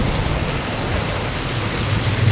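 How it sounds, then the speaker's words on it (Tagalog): Heavy typhoon rain pours in a dense, continuous hiss, loud and close, with no gaps and no voices. "Napakalakas ng ulan."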